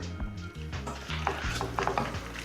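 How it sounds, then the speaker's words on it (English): A spoon stirs a pot of chili sin carne with beans and corn, giving a continuous scraping, sloshing sound with faint sizzling, close and alone with no talking. "Now let's give everything a good stir."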